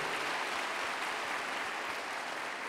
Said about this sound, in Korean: 너를 위해서 박수하고 있는 거야,